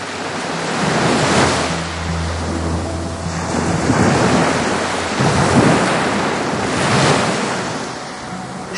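Ocean waves surge and wash up onto a beach on the southern coast, rolling in loud and close in repeated swells every few seconds, with steady wind noise and no voices.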